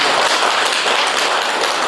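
Audience applause for a professor after a Buddhist lecture at Jogyesa temple, dense continuous clapping from a crowd, loud and steady throughout with no voices.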